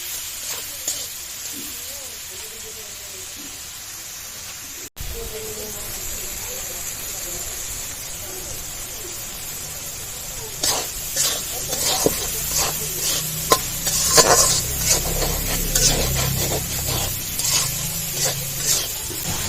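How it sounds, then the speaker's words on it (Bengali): Spice-marinated prawns sauté in a pan, faint at first, then a louder sizzle with stirring scrapes building in the second half, while a person talks over it. "মাছটা একটু ভালো করে মশলার সাথে কষিয়ে নেব।"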